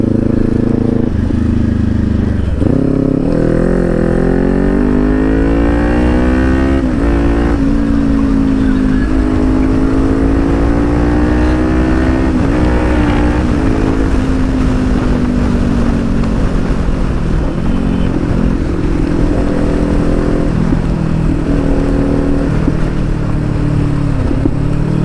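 Kawasaki Ninja 400 fitted with a loud Akrapovic exhaust on a ride, engine close and loud, revving up through gears with rising and falling tones under constant wind noise.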